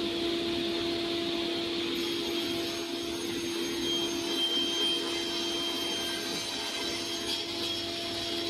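Wooden boards being rough cut with a power saw in a home workshop, a steady loud whining drone with a constant motor tone that runs the whole time without pause.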